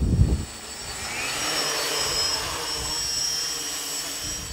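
A surveying drone on a test flight gives a steady, high whining buzz with a slowly shifting pitch, holding at an even level for several seconds after a brief low thump at the start, with no talking.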